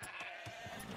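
Sheep bleating in the strategy game Age of Empires, a couple of short nasal bleats repeating over a steady game ambience, fairly close and clear with no talking.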